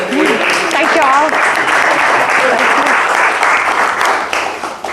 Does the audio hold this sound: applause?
yes